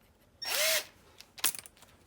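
A power drill boring a tap-size hole, sized just over an 1/8 inch bit, for a brake line clamp on a hot rod: one short, loud whirring burst that winds down, then brief rattling clicks.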